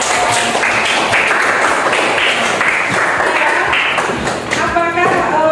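Classroom applause for group presentations: many hands clapping loudly and continuously for several seconds, with scattered voices mixed in.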